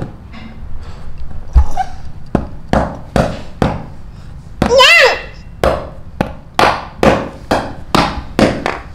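Sharp, evenly spaced taps ring out one after another as plastic dowels are knocked into pre-drilled holes while an IKEA computer table is assembled, close and fairly loud, with a brief squeaky rising sound in the middle.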